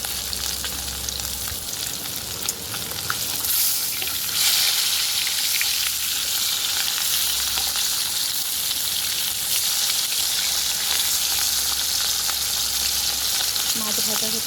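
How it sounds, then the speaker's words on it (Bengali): Fish fries in hot oil with a steady, close sizzle that crackles continuously and never lets up, with no talking. "মাছ ভাজা হচ্ছে এদিকে"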